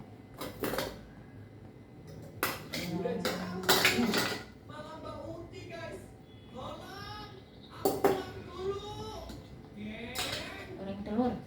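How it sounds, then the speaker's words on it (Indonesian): Pan and utensils clatter while eggs are fried in a home kitchen, with sharp metallic clinks and scrapes in bursts amid sizzling, close up, as someone talks intermittently. "nih mau goreng telur"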